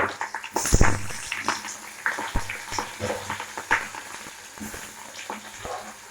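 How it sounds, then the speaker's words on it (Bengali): Eggplant frying in hot oil with dried chillies and black cumin, giving a soft, steady sizzle with scattered crackles and a few sharp clinks and knocks of a utensil against the pan. "বেগুনটা দিয়ে দেবো, লঙ্কাটা ভাজা হয়ে গেছে।"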